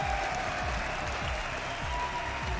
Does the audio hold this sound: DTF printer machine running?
no